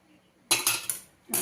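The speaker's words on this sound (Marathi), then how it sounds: "चमच्याच्या साह्याने आपण हे मिक्स करून घेऊया" A spoon mixes shankarpali dough with hot ghee in a metal vessel, giving four quick, close clinking scrapes with a short pause before the last.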